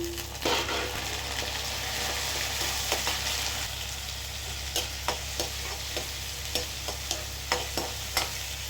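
Turkey berries (sundakkai) sauté in a pan over already softened onion, a soft steady sizzle broken by a run of sharp spoon scrapes and taps against the metal that quicken toward the end, with no talking.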